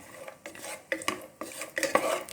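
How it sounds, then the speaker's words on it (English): A spoon scrapes and clinks against a pot as raisins are stirred in ghee, in several uneven close strokes with no speech. "Now add in the raisins. All this is just desired amount and give this a good stir."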